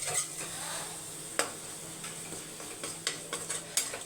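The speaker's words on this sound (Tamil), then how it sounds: "நல்லா உப்பை நல்லா மிக்ஸ் பண்ணி விட்டுட்டு கொஞ்சம் ஆற வச்சுருங்க" Cooked rice stirred with salt in a pan, giving soft scraping and scattered spoon taps against the metal over a faint steady background, with no talking.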